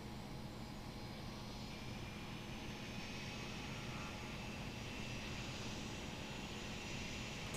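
A jet engine roars steadily at high thrust during a takeoff roll in the Lock On flight sim, a constant, even whine and rumble with no break, fairly quiet overall.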